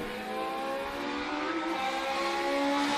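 Pro Stock race cars roar around Tucson Speedway at night, engines droning at a distance in a sustained, slightly rising whine with layered overlapping tones.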